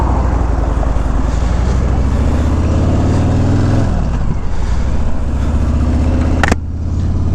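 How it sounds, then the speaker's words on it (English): A 2017 Harley-Davidson Road King ridden along a busy stretch of road gives a steady, loud engine rumble mixed with wind noise. The pitch dips midway and a brief sharp burst comes near the end, with no talking. "This is a really busy stretch of road here, and this is a bad time of day to be riding out here."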